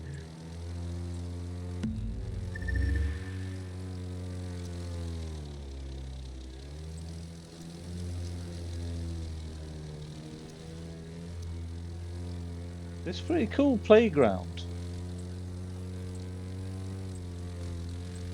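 Propeller aeroplane engine in the video game The Crew 2 drones steadily with shifting pitch, a low rising and falling hum, while someone speaks briefly over it.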